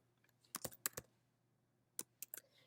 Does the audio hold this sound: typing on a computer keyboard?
yes